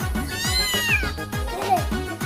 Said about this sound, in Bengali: দোস্ত, ওটা তো বিড়াল ছিল।